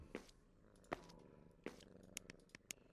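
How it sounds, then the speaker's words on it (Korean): Soft, steady cat purring in the horror game SCP-087 runs through the clip, with a few sharp clicks and short bursts from game sounds layered on top. "어디서 골골송 들리는 것 같지 않아? 고양이?"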